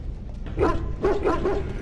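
Dogs in the video game Dragon Age Origins give a series of close, loud barks and yips, about four in quick succession over a low background rumble.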